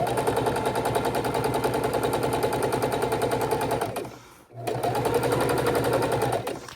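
A sewing machine runs steadily while stitching raw-edge appliqué hearts onto a scrappy quilted table runner, a dense rapid rattle that cuts out briefly for a pivot with the needle down, then resumes at the same pace.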